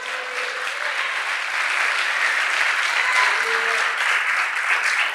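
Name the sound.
audience applause in church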